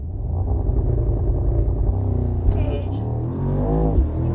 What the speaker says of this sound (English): '23 Mercedes AMG Sl63 4MATIC Plus with race start.